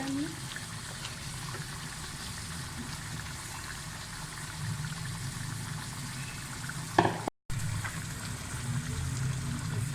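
Spiced yogurt paste frying in oil in a chicken karahi, a soft continuous sizzle with light stirring and water-like bubbling throughout, one brief clatter near the end.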